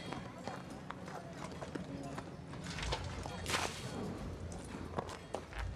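Horse hooves clip-clop in a steady walking rhythm in a Peaky Blinders scene, close and fairly quiet, mixed in with dialogue.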